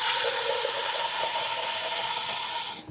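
Water pours steadily into a pot of kadhi, making a loud, even rushing hiss for about three seconds before it cuts off.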